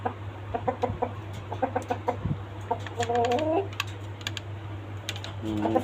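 A Fayoumi rooster and hens on a small backyard chicken farm cluck in short bursts, with a clearer drawn-out cluck midway and another near the end, over sharp tapping clicks and a low steady hum.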